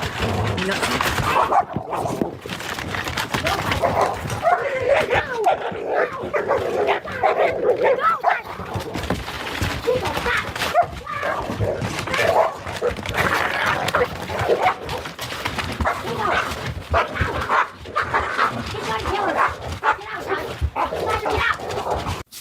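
Dogs barking, yelping and whimpering loudly and continuously as they fight up close, with a person's voice mixed into the chaotic noise.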